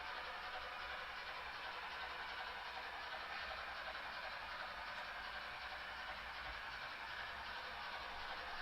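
A BLI GS4 Daylight model steam locomotive, a Pennsylvania Railroad model coupled behind it, runs steadily on model track with a continuous soft rolling hum and faint wheel clatter at a low, even level throughout.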